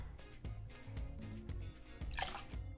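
Vodka poured into a blender over pineapple juice and macadamia nut liqueur for a tropical cocktail, a soft close trickle and drip with a brief brighter splash near the end.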